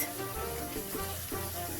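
Avocado oil sizzles quietly and steadily in a frying pan on medium heat, a soft continuous crackle with no talking.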